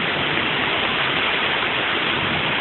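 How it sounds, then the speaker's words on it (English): Heavy thunderstorm rain pouring steadily as a dense, constant roar with no gaps or thunder claps, loud and close throughout. "yeah, this is one hell of a good storm."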